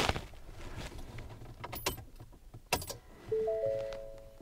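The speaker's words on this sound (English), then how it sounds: "I'm gonna turn on the key." Keys jangle as a truck ignition key is turned, followed by dashboard chimes and tones coming on, all close and moderately loud.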